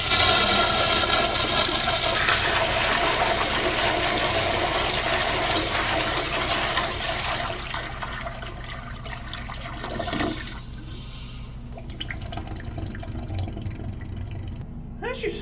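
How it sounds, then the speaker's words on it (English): A 3.5 gallon Kohler Wellcomme toilet on a flushometer valve flushes with a loud, forceful rush of water that gradually settles into a quieter refill trickle. "As you saw there, the flush is pretty strong."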